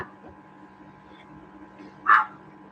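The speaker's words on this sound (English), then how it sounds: "Stop barking at Neil and Mary" One short, sharp dog bark, apparently from a small dog in a quiet indoor room, sounding near and standing out against low background hum.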